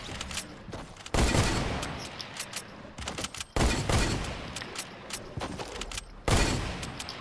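Bursts of gunfire from Fortnite, several loud rapid volleys separated by short pauses, close and dominant with no talking.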